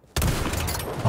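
A sniper rifle fires in an XDefiant match, one sudden loud crack that rolls into a sustained booming wash of gunfire, with no speech.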